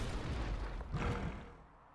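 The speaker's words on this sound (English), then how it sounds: "Another explosion thing." An explosion goes off in the turn-based strategy game Into the Breach. One muffled, low boom swells and fades quietly.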